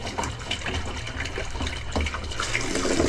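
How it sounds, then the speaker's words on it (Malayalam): Water pouring from a pipe into a container set up for new carp fry, a steady close splashing and gushing that grows slightly louder toward the end. "അപ്പോൾ ഇതിനകത്ത് അത്യാവശ്യം വെള്ളം നിറയട്ടെ"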